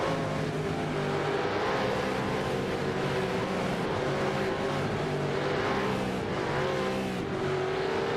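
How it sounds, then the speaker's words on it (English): A race car engine from a sim racing game at Monza drones steadily for the whole stretch, a sustained buzzing tone that drifts slightly in pitch as the stalled car is coaxed back into motion, loud and unbroken. "Oh, the car stalled. He's trying to get it going, has he?"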